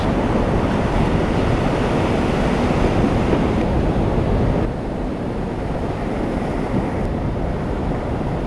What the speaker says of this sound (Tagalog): Bilas ang alon.